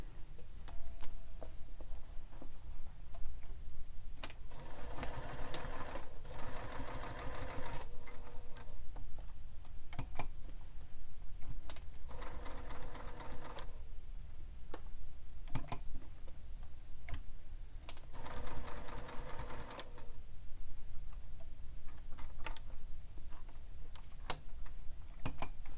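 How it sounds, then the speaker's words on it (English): Sewing machine stitching around the edges of a bag, running in several short bursts of rapid ticking with quiet pauses between, close and steady, no talk. "So now I'm going to stitch down the other side."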